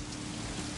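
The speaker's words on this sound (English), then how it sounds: "Oh, now it's raining." Steady rain hisses evenly across a short stretch in the video game Sleeping Dogs, a dense wash of falling drops with no voices.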